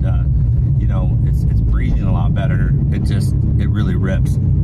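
An American supercar's engine rumbles steadily with its exhaust pipes open, a loud continuous low drone throughout while someone talks over it.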